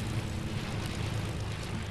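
A steady, loud propeller-plane engine drone from a video game as the aircraft tries to land on a ship, an unbroken roar holding evenly for the whole stretch with no other sounds standing out.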